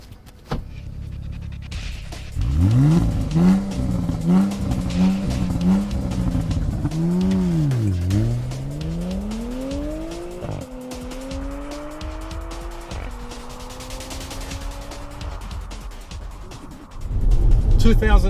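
Loud revving from a 2017 Porsche Cayenne GTS with quad exhaust in Sport Plus mode, a run of sharp rev blips rising and falling before long climbing pulls through the gears, close and dominant with no talk over it.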